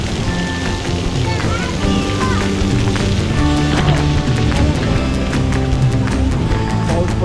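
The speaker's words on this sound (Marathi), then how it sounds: "पाऊस पडतोय" Heavy rain pours steadily at a water resort near Mumbai, a loud continuous patter and splash on surfaces with faint voices underneath.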